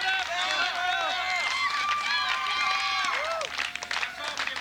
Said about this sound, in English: Crowd getting behind the Thrillseekers.